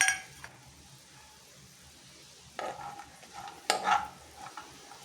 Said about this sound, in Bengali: লং দিয়ে দিচ্ছি, এলাচ দিয়ে দিচ্ছি, এই বাদাম কিশমিশও দিয়ে দিচ্ছি। দিয়ে এটা একটু ভালো করে নেড়ে নেবো।